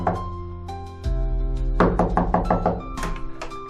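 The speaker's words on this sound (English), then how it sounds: "He pauses, then knocks." Knocking on a heavy wooden office door, several firm thunks in a short cluster after a pause, close and fairly loud, set against a tonal music bed.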